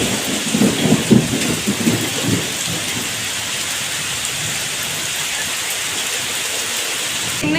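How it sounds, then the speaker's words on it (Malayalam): Heavy rain pours down steadily in a loud, dense hiss, with low rumbling thunder rolling in the first few seconds before the downpour continues alone. "ഇവിടെ കറക്റ്റ് ഇടിയും മിന്നലും മഴയൊക്കെ"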